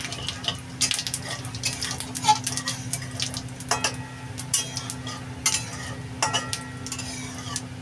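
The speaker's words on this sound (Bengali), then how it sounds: "জিরেটা আমার চুলাই ভাজা ভাজা হয়ে গেছে লাল লাল করে" Whole cumin seeds fry in oil on a stove with a low sizzle under sharp, irregular pops and crackles, plus a constant low hum in the background.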